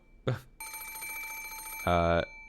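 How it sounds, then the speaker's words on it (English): An antique extension telephone rings in a room, heard as a bright, steady bell ring that starts after a short knock-like sound and sustains loudly for over a second before ending in a louder buzzing burst. "suddenly, the piercing sound of a phone rang through the room"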